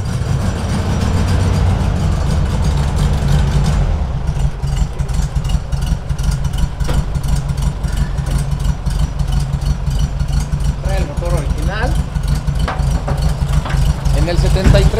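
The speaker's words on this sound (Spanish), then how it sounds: "Bochito motor 1500, oye, muy suavecito." A Volkswagen Beetle with a 1500 engine idles smoothly, giving a low, steady rumble that runs close and unbroken throughout while someone talks over it.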